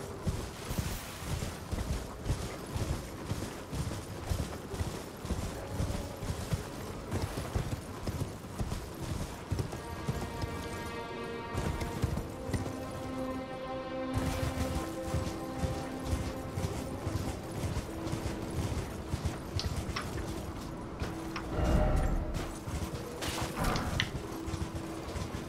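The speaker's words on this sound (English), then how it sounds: "wish this horse ran a little bit faster." A horse gallops in the video game Elden Ring, its hoofbeats a fast, steady clip-clop rhythm that continues throughout with a light wind-like hiss behind and no talking.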